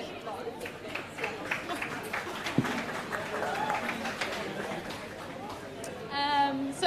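A crowd at an awards ceremony applauds, with steady clapping and chatter spread through a large room and voices speaking over it, plus a sharp knock partway through.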